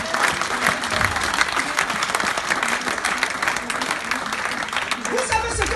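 A congregation applauds and cheers at a church crusade, with steady dense clapping and crowd voices sustained throughout, fairly loud and filling the space.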